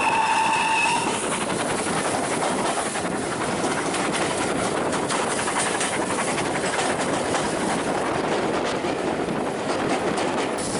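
A train rumbles steadily past through a railway cutting in East Lancashire, a broad continuous roar with faint rhythmic clatter, beginning with a brief whistle-like tone.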